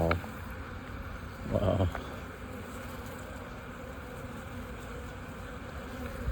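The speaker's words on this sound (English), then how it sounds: "Those are drone bees or male bees." Bees buzz steadily around an open hive at a honey beekeeping farm, among drones and a queen, a close continuous hum throughout while a voice briefly exclaims near the start.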